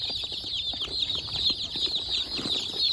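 A freshly opened box of 100 baby chicks fills the air with dense, continuous high-pitched chirping and peeping, many birds overlapping at once, close and steady throughout.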